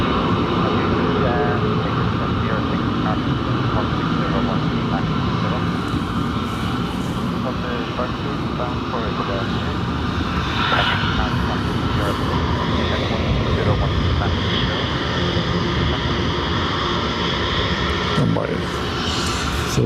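A JetBlue airliner on its departure roll at Dublin Airport, a broad, continuous engine roar that holds steady and loud across the whole stretch, with no voices over it.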